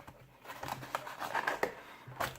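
Action figure packaging being cut open with scissors, close irregular snips and plastic crinkles with small taps and rustles, fairly quiet and with no talking.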